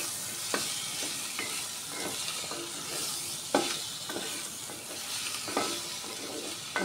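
Drumsticks sautéing with onions in a curry pan for a drumstick tomato curry, a constant loud sizzle with regular spatula scrapes and taps every second or so, with no talking.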